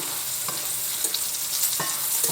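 Minced garlic clove frying in a pan for Spanish tapas, a steady close sizzle with a few light stirring taps, no voices.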